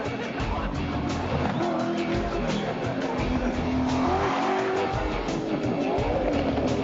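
Larry Perkins' Mobil 11 race car on a racetrack lap nearing the last turn and the flag, engine droning and shifting pitch with tyre squeal, sustained and fairly close.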